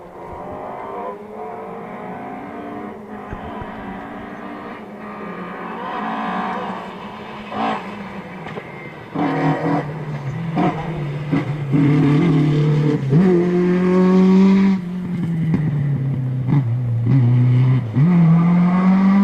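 An MG Mark II rally car on a special stage of the Argyll Rally, its engine note rising and swelling as it approaches and passes close by, loud and sustained with revving through the second half.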